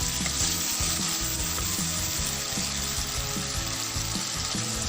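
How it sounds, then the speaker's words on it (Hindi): Chicken frying with yogurt in a karahi for Shinwari karahi, a loud continuous sizzle and bubbling close up, with a steady hiss throughout and no talking. "और अब इसको दही के साथ भून लें।"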